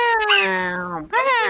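A person imitates a cat over voice chat with two drawn-out, falling meows separated by a short break, loud and close.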